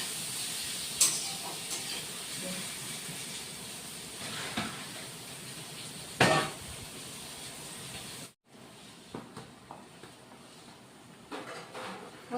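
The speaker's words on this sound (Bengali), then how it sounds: "আলুটা এখন ভেজে নেব।" Potatoes shallow-frying in a pan for a Bengali rohu fish kalia, a steady close sizzling hiss with a few sharper crackles and spatters, dropping briefly before the sizzle resumes a little quieter.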